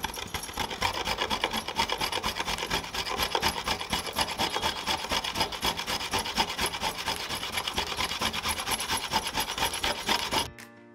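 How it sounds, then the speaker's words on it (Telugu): Fresh coconut being finely grated by hand, a fast continuous rasping scrape repeating in steady strokes, close and fairly loud, stopping abruptly at the end with no talking. "ఇప్పుడు ఈ కొబ్బరిని సన్నగా తురుముతున్నాను."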